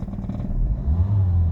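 A 2017 Toyota Vios engine in limp mode, rough idling with trouble codes, revs up under throttle with a rough, clattering rise and then holds a strained, capped drone, close up with no voices.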